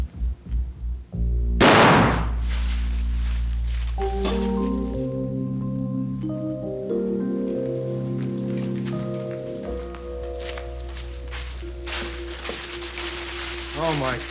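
One loud, sudden gunshot rings out early, then gives way to sustained musical tones and people talking in a dramatic indoor scene.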